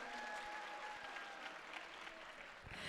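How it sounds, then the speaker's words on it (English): Steady applause from a distant crowd at a high school awards ceremony, continuous clapping for a few seconds with no voices standing out. "please clap for them. There we go."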